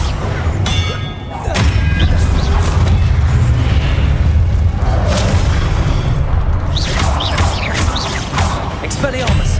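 The Expelliarmus spell is cast in a Hogwarts Legacy duel, loud booming blasts, thuds and metallic clangs hitting in quick succession with shouted voices over them.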